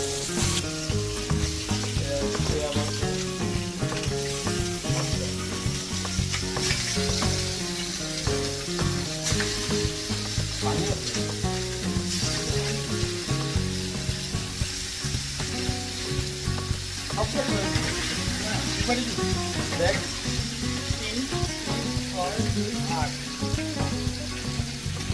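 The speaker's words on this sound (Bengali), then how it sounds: "এখন চিকেনটারে ফ্রাই করবে, তেলে ভাজে নেবে" Chicken fries in hot oil in a kitchen in Alexandria, Egypt, giving a continuous loud sizzle with occasional stirring and utensil clatter throughout.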